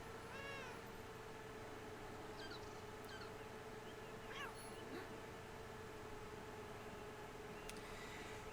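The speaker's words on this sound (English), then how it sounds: "A very ill-looking cat." A very ill-looking cat in the video game Beyond Eyes gives a short meow early on, faint over a steady ambient hum, with a few soft chirps scattered later.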